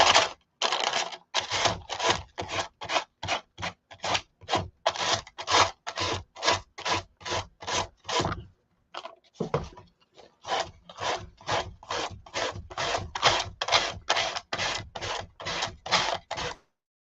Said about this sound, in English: And we'll get this sanded off.